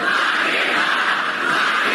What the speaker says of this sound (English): The crowd is chanting to Joe Biden, lock him up, referring to Donald Trump.